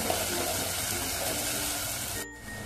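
Fresh coriander frying in hot oil while dal is cooked, a steady close sizzle and crackle that continues evenly and dips briefly near the end.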